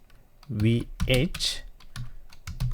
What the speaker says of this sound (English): now I'm going to type Resync